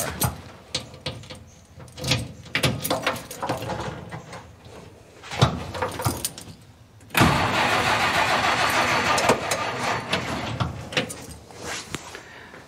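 Car engine cranking over repeatedly without catching, a hand-primed engine on a weak, nearly drained battery, with a steadier, louder mechanical whir running through the second half.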